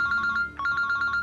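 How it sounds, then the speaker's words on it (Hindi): A telephone ringing in a quiet room: two short bursts of a bright trilling electronic ring separated by a brief pause, clear and close. "एनी का बार बार फोन आ रहा है"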